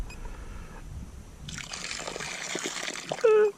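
A little water sloshes and trickles inside the hull of a Flytec V003 high-speed RC boat, a short close splashing that ends in a brief louder burst.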